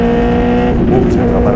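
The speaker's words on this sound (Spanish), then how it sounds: "es un motor tetra que tiene un sonido lindo" A Benelli 600i motorcycle's 600 cc four-cylinder engine runs loud and close, a dense steady drone with a slight rise in pitch midway.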